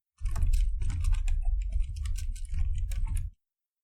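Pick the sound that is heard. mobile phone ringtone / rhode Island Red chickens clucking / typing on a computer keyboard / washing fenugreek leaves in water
typing on a computer keyboard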